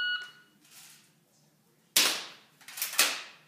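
Airsoft gun shots on an outdoor target line: one sharp crack, then a second shot a second later, each with a short bright snap over quiet background.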